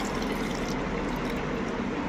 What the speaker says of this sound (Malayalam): ഇതിലേക്ക് ഞാൻ 1 ഗ്ലാസ് പാൽ ഒഴിക്കുകയാണ് കേട്ടോ.